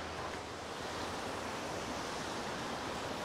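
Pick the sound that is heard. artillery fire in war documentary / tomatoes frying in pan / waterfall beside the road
waterfall beside the road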